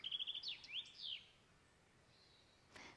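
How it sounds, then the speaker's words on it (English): Birds chirp and trill in quick bursts, bright and fairly faint against a quiet outdoor background, fading after a second or so. "There's a proper chorus of birds here on my background. I'm sure you can hear them too."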